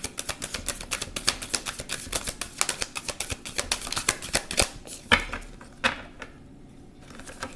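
Rapid, crisp riffling and tapping of tarot cards being shuffled up close, in quick bursts that slow and fade near the end.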